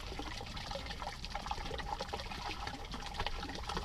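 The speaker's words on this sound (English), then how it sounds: "Now we're going to dump that vinegar in there." Vinegar pours into a boat live well, a steady splashing, trickling liquid sound that runs continuously and fairly close throughout.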